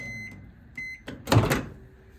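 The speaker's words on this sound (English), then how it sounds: "And I choose to do mine in the microwave" A microwave oven beeps, then its door clunks open with a loud thud, the beeping tones sounding briefly before and around the door noise.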